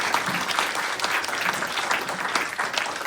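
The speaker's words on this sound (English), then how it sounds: "one more round of applause for the panelists." Sustained crowd applause for startup founder panelists at a US–Taiwan startup conference, a thick, even patter of many hands clapping throughout.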